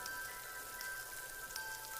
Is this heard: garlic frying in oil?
no